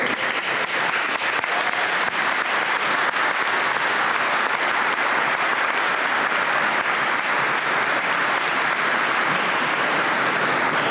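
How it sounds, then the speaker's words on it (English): A large audience applauds steadily at a graduation ceremony, a dense, even wash of clapping that fills the whole stretch without pause or voices. "please do so that we can at least applaud for you"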